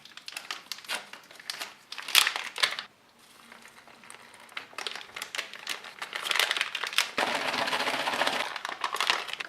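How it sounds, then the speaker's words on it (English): Cocoa beverage powder being mixed inside a plastic MRE pouch, a run of close crinkling and rustling of the bag with brief pauses, louder and denser toward the end. "So I'm gonna mix this in the bag and then pour it in a glass."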